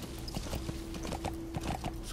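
Horse hooves clip-clop in a steady galloping rhythm in the video game Metal Gear Solid V, faint and evenly paced beneath a low background hum.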